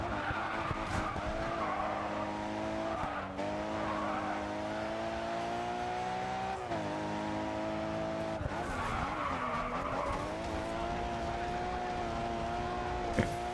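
A race car in GRID 2 grinds along a wall, giving a continuous loud scraping skid and tire squeal over a droning engine whose pitch wavers throughout.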